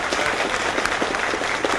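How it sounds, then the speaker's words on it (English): A banquet crowd gives a rousing round of applause: dense, steady clapping from many hands in a hall, loud and unbroken for nearly two seconds. "can we see a rousing round of applause"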